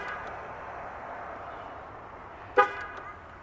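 A 2019 Dodge Journey gives one short, sharp horn chirp as it locks when its door handle is touched, a single clear honk standing out over a low, steady outdoor background hum.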